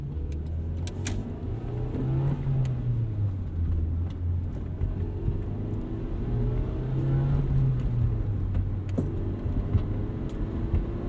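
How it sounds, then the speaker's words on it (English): A Honda Civic EM1 Si with a 5-speed manual transmission driving along, its engine droning steadily inside the cabin and rising and falling in pitch through gear changes and throttle shifts, over constant road noise, with no talking. "Honda Civic EM1 Si for a drive."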